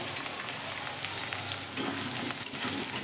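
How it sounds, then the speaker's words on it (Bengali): Fresh curry leaves and sliced onions frying in hot oil, a constant close sizzle that jumps louder partway through as more goes into the pan, with no voices. "কারি পাতা দেওয়ার সাথে সাথে দিয়ে দিচ্ছি আমি স্লাইস করে রাখা পেঁয়াজ"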